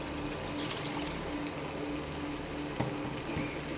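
Water pours into an egg masala curry in a cooking pot, a soft continuous trickle heard faintly and close, with no talk.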